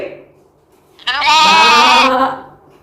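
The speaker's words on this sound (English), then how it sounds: "Sheep." A single sheep bleats loudly and close by, one sustained wavering baa lasting about a second before fading out.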